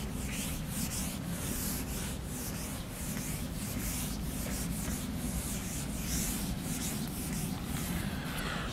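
Steady back-and-forth scrubbing of an eraser rubbing across a classroom board, a dense continuous rasp with a regular stroke rhythm, close and fairly loud with no talking.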